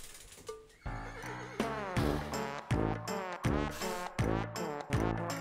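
Repeated horse whinnies from a video game in quick succession, loud and close, forming a rhythmic, almost musical pattern of neighs without any talking.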